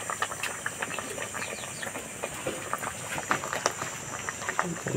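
Fresh fish frying in hot oil in a pan, a steady close sizzle with scattered crackles and pops, no voices.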